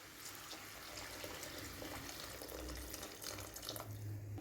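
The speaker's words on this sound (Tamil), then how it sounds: "இப்போ இந்த குருமாவுக்கு தேவையான அளவு தண்ணி ஆட் பண்ணிக்குவோம்." Water is poured into a pot of jackfruit seed kurma, a continuous faint splashing trickle with a low gurgle toward the end.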